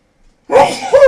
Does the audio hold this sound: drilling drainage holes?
no